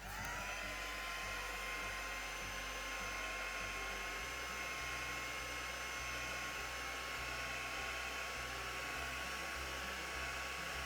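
A heat tool blows hot air to set ink on a stamped card, a steady loud whooshing hum with a constant fan whine that runs unbroken throughout, no talking.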